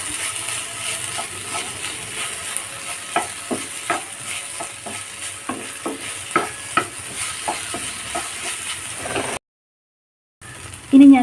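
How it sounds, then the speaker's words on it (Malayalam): A spoon scrapes and stirs finely chopped tomato frying in a pan for an okra dish, the rhythmic clacks of the spoon over a steady close sizzle, with a brief break near the end and no talk. "ഇനി ഇതും കൂടി നന്നായിട്ടൊന്ന് വഴറ്റിയെടുക്കാം."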